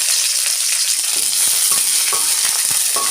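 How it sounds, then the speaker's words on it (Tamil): Dried red chillies, broken green chillies, fennel seeds and curry leaves sizzle loudly and continuously in hot sesame oil for chicken varuval, with a few faint utensil knocks and no voices. "ரெண்டு மூணு வரமிளகாய் பச்சை மிளகாய் ரெண்டு உடச்சது ஒரு கருவேப்பில் கருவேப்பிலை"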